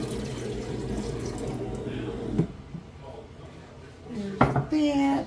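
Water and milk are poured into a bread pan as a steady liquid rush for a couple of seconds, followed by light clinks and handling noises in a kitchen.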